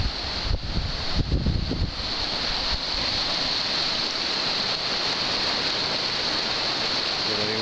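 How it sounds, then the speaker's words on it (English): Cold river at a hot springs flowing in a steady, loud broadband rush, with a few low bumps near the start and continuous wind-like water noise throughout. "beautiful, beautiful cold river down here"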